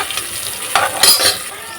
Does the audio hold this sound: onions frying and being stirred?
yes